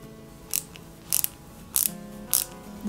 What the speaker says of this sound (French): On y met deux vis DM, donc de chaque côté,